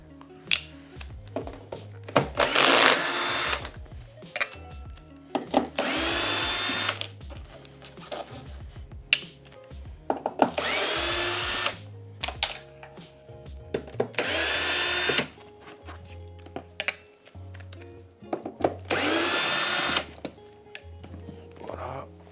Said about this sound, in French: Et là on va enlever toutes les vis.